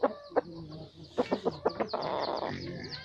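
A tall, long-bodied decoy rooster with red eyes and one white spur clucks in a run of short, close, fairly loud calls, some clustered and some spaced, with no talk.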